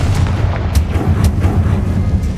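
Confringo blasting spell in Hogwarts Legacy erupting into a loud, close rumbling explosion with a cluster of sharp bursts and booms rolling together over a couple of seconds, no speech.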